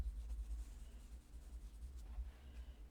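A watercolor pencil scratches lightly across paper in close, soft, rhythmic strokes, a quiet scraping texture with no voices.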